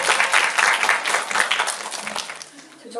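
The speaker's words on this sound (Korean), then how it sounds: "박수 한번 나와야 될 것 같습니다." Audience applause at a Hedwig special screening talk, a dense burst of clapping that swells and then tapers off toward the end.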